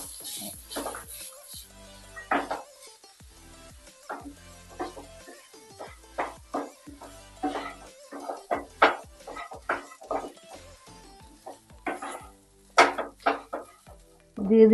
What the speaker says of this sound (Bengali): একটু পোস্ত, এবার নারকেল কোড়াটা অ্যাড করে দিচ্ছি।